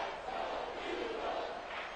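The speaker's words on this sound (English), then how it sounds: "the crowd getting into it as we come up on a big 3rd down" Distant crowd roar swells steadily in an American football video game stadium ahead of a big third down, a continuous broad cheer with no clear voices on top.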